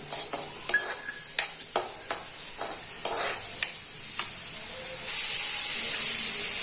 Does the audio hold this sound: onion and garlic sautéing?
yes